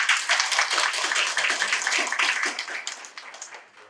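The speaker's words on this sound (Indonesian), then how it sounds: "Tepuk tangan dong." An audience at an evening hadroh arts event in a mosque claps, a dense burst of hand claps that gradually thins and fades toward the end.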